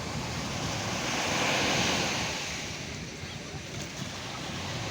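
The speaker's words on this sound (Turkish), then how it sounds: "Nasıl dalga var gördün mü?" Sea waves break and wash onto a beach in a continuous, loud roar of surf, with wind buffeting the microphone throughout.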